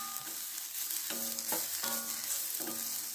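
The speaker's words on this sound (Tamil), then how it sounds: "2 நிமிஷம் வறுத்திங்கனாலே இந்த மல்லி இலை, புதினா இலை, பீர்க்கங்காய் தோல் எல்லாம் வந்து நல்லா சுருண்டு வதங்கி வந்துடும்" Coriander leaves, mint leaves and ridge gourd peel fry in a pan for a chutney, with a soft continuous sizzle and several brief scraping stirs of a spatula; quiet and close, no talking.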